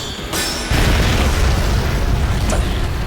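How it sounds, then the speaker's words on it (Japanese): A loud, sustained explosion in an anime battle: a brief burst swells into a dense, roaring boom that rumbles on without fading for several seconds, heard alone. "爆破の加減が難しいな。"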